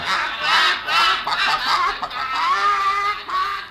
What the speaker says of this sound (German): Und endlich schnatterten sie alle zusammen.